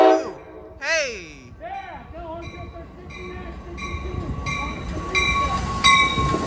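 An Amtrak Capitol Corridor train 734, led by Cab Car 6962, arrives on an eastbound run to Sacramento. It sounds a series of sharp horn blasts that grow louder and more sustained, over the building rumble of the approaching train.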